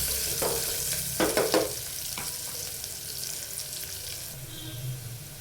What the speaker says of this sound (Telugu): అలాగే కొంచెం జీడిపప్పు, క్యారెట్ ముక్కలు వేసి మరొకసారి కలుపుకోవాలి.